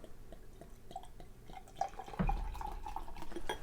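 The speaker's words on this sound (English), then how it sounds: "Not gonna pour too much because I need that good Instagram photo." Barrel-aged strong ale pours into a glass, beginning as soft drips and trickles before a fuller, steadier gurgling stream takes over near the end, heard up close with nobody speaking.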